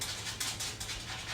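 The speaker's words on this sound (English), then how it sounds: "If you hear that scratching, it's my dog." A dog scratches in a quick rhythmic series of soft, brushing strokes, faint and close by.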